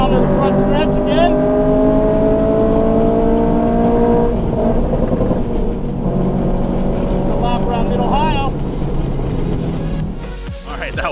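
A race car engine roars loud and close from inside the car on track at Mid-Ohio, pulling hard through the gears with rising and falling revs, while the driver talks over it.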